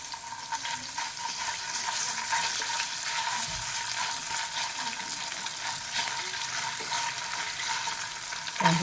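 Ginger sizzling in hot oil with curry leaves for batata poha, a dense, steady frying hiss with occasional stirring scrapes, close and continuous with no talk.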